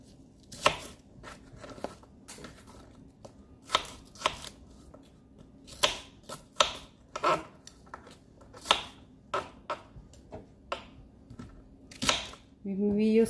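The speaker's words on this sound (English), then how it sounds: "We cut the onion." A knife chops through an onion on a cutting board in a home kitchen, a series of sharp, irregular knocks spaced about a second apart, close and clear, with brief talk right at the end.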